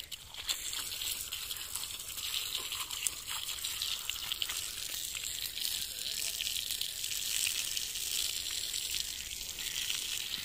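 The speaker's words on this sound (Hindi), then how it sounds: "पानी आ गया है" Water splashes and hisses steadily from a pipe onto a rooftop, a continuous close spray with faint rattling textures throughout.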